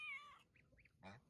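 A kitten meows from behind a net, a short harmonic cry followed by a few softer chirps and another brief call, close and fairly faint with no talking.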